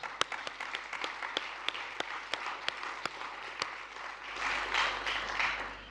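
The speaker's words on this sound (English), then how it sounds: "One is to do a round of applause for all of our speakers today." Audience applause for the speakers at the close of a science symposium session: a dense wash of clapping with a few sharp, distinct claps standing out, swelling slightly louder toward the end.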